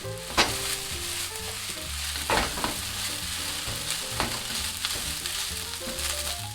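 Fried rice sizzles and is stir-fried in a pan after soy sauce and sake go in, with a steady frying hiss, scraping stirs and light clinks of the utensil against the pan. Music plays over it and no one speaks.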